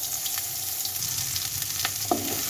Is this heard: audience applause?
no